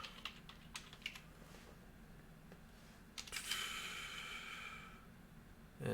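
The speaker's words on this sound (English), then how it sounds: "And we'll type in Porsche." Computer keyboard typing in quick, light bursts of keystrokes at close range while entering a search in an iRacing session menu, with a brief louder clatter partway through and no talking.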